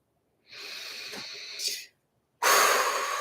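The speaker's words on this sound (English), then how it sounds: "make sure you breathe" Two close breaths: a long, airy inhale or exhale with a brief rise at the end, a short pause, then a second louder, hissing breath.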